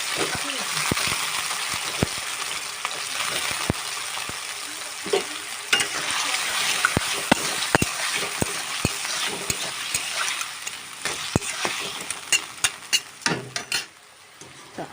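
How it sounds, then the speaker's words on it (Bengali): Potato pieces fry in mustard oil in a wok, giving a steady sizzle with clinks and scrapes of stirring throughout. "আলুগুলো আমি ভেজে নেব।"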